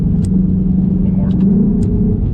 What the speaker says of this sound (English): There's absolutely no lag detectable whatsoever. It just flies through the gears.